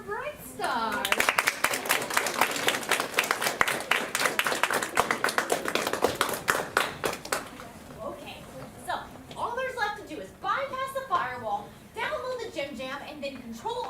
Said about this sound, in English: I'll give a round of applause for Brightstar.